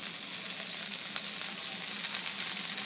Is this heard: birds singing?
no